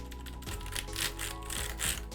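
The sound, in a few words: clicky mechanical keyboard keys, likely Cherry MX switches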